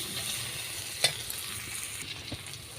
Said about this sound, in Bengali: তো ভাবলাম একবারে মশলাটা কষে নিই